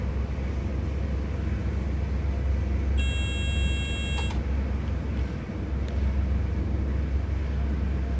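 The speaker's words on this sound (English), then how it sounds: "That beeping you can hear going off is the dead man's device" Dead man's device warning in Train Sim World 5 on the Dutch Zwolle–Groningen line: a steady electronic beep tone sounds for about a second over loud, constant train cab rumble.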